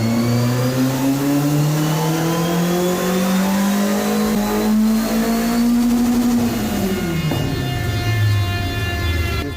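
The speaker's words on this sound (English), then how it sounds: "It goes through a number of power runs before determining the final output." A race car engine roars on a dyno during a power run, its pitch climbing steadily under load then dropping off as the throttle eases, loud and continuous with no voices.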